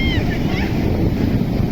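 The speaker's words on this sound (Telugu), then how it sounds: "పెద్ద అలలు వచ్చినాయి." Big ocean waves surging in at a beach in Vasco da Gama, Goa, a loud continuous rushing roar with heavy wind buffeting the microphone.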